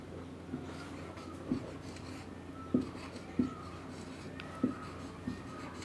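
Chalk or marker on a classroom board makes soft, intermittent taps and scratches at irregular intervals, close by and moderately quiet, over a low background hum.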